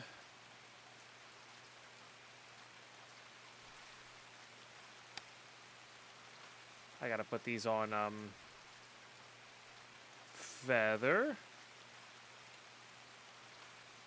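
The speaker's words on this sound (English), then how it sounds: "That rain is loud though" Steady, hissing rainfall in the video game Escape from Tarkov, a constant soft wash throughout, with someone talking briefly over it twice.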